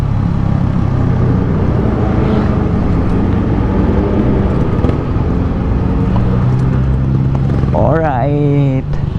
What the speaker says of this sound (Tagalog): Medyo malakas nga pala talagang tambutso ko